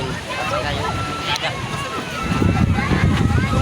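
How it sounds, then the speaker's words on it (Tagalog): Strong wind buffets the microphone by the sea, rumbling in gusts that grow heavier toward the end, with a faint voice in the background. "malakas din ang hangin tapos tabing dagat"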